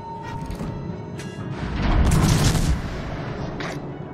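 Naval gun salvo from the cruiser Belfast in World of Warships, heavy booming shots rising to a loud peak midway amid ongoing battle noise, with no talking.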